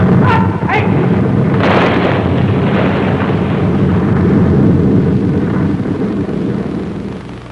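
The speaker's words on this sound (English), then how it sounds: "Beautiful explosion." Explosion sound effect in the Space Patrol television series, a loud sudden blast that rolls into a long, heavy rumble and slowly fades.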